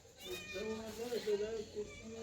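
A cat meows in a drawn-out, wavering cry at close range, repeating in a few rising and falling notes while someone talks over it.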